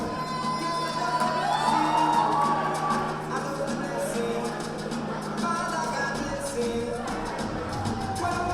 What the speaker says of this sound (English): a nice round of applause for the BMCC Panthers